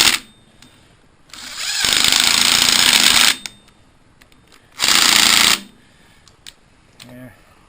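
A battery impact wrench hammers at a Kohler pulling engine during a teardown, firing in two loud bursts, one long and one short, with quiet clinks of tools between them, up close.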